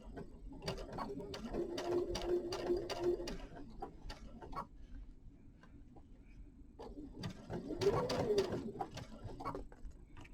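A sewing machine stitches binding onto a quilt in two runs of quick, even rhythmic whirring and ticking, separated by a quieter pause, close and moderately soft.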